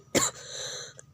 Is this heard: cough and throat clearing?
yes